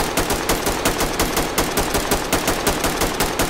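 Rapid automatic gunfire in the video game Ready or Not, a loud, sustained burst of evenly spaced shots firing nonstop for the whole stretch.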